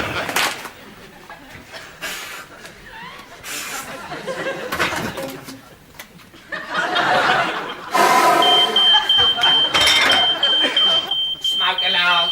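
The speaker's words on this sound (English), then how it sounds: "Smoke alarm." An indoor smoke alarm goes off, a thin high-pitched tone pulsing in the last few seconds, partly buried under people talking and laughing.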